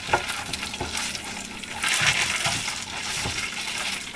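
Tomato paste being stirred into garlic in a pan: close scraping and sizzling with a few light clinks of the utensil against the pan, continuous and moderately loud over about four seconds, with no voices.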